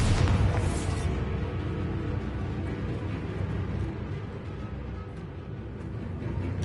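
A Bombarda spell in Hogwarts Legacy detonates with a deep, booming blast at the very start, its rumble and debris wash lingering at a steady roar afterward.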